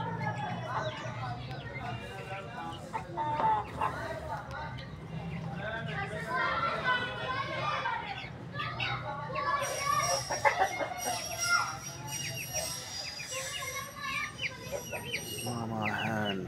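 A black hen clucks with her young chicks nearby outdoors, with steady soft clucks and chick peeps over a constant background, with voices talking throughout.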